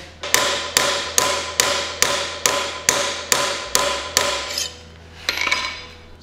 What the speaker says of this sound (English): And we hammer it on again.